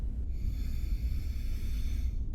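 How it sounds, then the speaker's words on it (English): A single long, rough breath or snorting exhale in an indie horror game, close and sustained over a deep rumbling ambience. "You can hear the heavy breathing right now."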